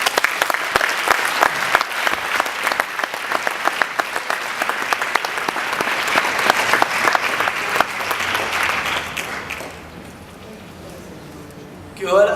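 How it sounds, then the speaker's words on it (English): An audience at a plenary session of the World Down Syndrome Congress 2012 applauds a speaker, with sustained, lively clapping that fades near the end and gives way to quiet room tone before a sound returns. "give a warm hand of applause to Mr."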